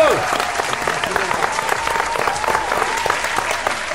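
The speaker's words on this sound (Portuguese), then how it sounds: "Palmas." Applause from a crowd at an Oakley product launch in Brazil, dense and steady clapping that fills the whole stretch, loud and close, with scattered cheering mixed in.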